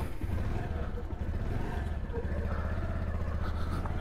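Motorcycle engine idling steadily after a cold start on a mountain pilgrimage ride, a low continuous throbbing hum with faint clatter, close by and unbroken.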